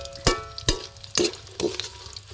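Dried sap-sap fish (daing) frying in a pan, with a steady crackling sizzle under a run of four sharp, regular clacks of a utensil striking the pan, no talking.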